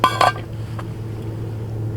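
A camping kettle and metal cookware clink and rattle in a quick cluster near the start, then fade to a steady low hum with a faint later tap.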